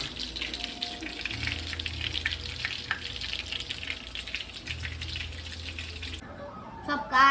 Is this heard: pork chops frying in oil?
yes